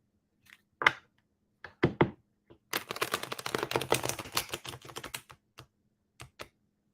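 A flurry of crisp, rapid tarot card riffles and taps, with a few isolated clicks before and after the main burst of fast flapping.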